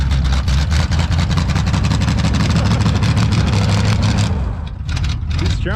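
A 1979 Chevrolet truck's engine revs hard with a straining, whining transmission as it struggles on flat ground, a loud steady low roar that dips briefly near the end while voices talk over it.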